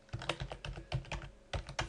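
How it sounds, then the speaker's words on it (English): Letter being typed on a computer keyboard: quick runs of close, crisp key clicks in uneven bursts, moderately loud with no talking. "What we want to do is to start typing a very simple letter."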